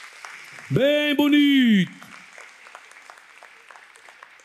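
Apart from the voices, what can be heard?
congregation applauding in church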